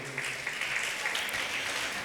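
Applause from an audience at a school Christmas celebration, a steady, dense crowd clapping that fills the whole moment at moderate volume.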